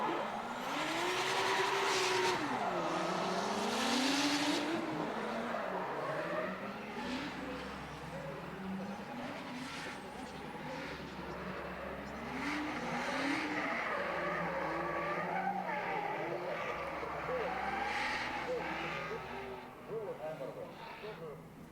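A Nissan S13 drift car at a drift competition revs and warms up, its engine rising and falling through repeated revs with squealing tires, while a commentator talks over it.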